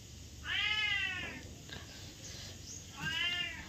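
A house cat gives two clear, close meows, each rising and falling, separated by a short quiet pause.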